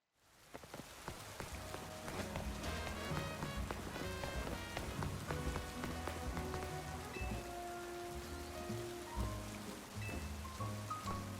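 Rain falls steadily in a video game landscape, a dense patter of drops striking surfaces with scattered louder splashes, continuous and fairly soft with no voices.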